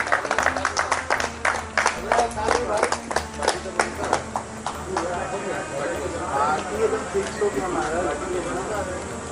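An audience claps for the winner as a silver memento is presented at a Purulia talent competition. The applause is sharp and dense at first, then thins into a looser, more scattered patter, with a voice speaking over it.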